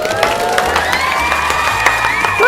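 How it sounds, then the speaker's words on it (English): A studio crowd claps and cheers for about two and a half seconds, with steady applause, scattered shouts and whistles, and a lively, continuous roar that stays loud throughout. "Give her a round of applause."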